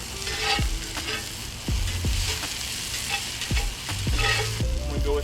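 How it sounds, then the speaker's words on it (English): A whole shallot sautés in oil in a pan while red snapper is being cooked, giving a steady sizzle and frying hiss. Several distinct stirring clinks and scrapes recur every second or so at close range, with no talk. "One whole shallot in there to get it sauteed up just a little bit."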